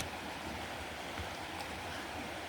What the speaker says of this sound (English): I just crossed this shallow part of the river.